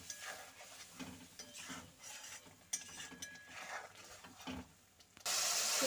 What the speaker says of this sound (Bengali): চলো মশলাটা কিছুক্ষণ কষিয়ে নেব, যতক্ষণ না তেল ছেড়ে আসছে মশলা থেকে।